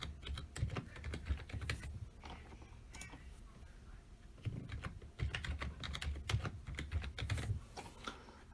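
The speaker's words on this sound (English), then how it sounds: "Alright, so I got my password put in." Someone types a password on a computer keyboard in quick, uneven bursts of soft close clicks and key taps, with brief pauses between runs, fairly quiet overall.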